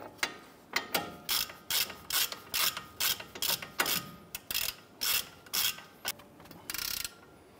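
A hand ratchet snugging down caliper bracket bolts on a Ram 1500 front end, about a dozen quick clicking strokes in an even rhythm, close by and alone, with a brief pause near the end.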